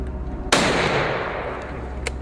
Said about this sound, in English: Gunshots rang out, tearing through the forest silence.